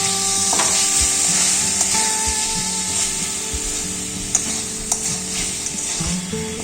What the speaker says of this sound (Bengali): আলুর দমের ঢাকনাটা তুলে নিচ্ছি। এবার একটু নেড়ে চেড়ে দেখে নিচ্ছি হয়েছে কিনা।